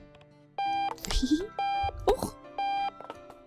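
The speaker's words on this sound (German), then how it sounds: "Machen wir erstmal diesen Wecker aus, geht das?" Video game alarm clock in Octodad: Dadliest Catch rings in three evenly spaced electronic beep bursts, separated by clattering plops and bumps as the clock is handled, with a brief spoken exclamation between rings.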